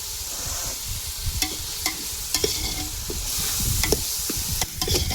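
Food sautés steadily in a pan, a continuous loud sizzle with repeated sharp scrapes and knocks of the stirring utensil, no talk.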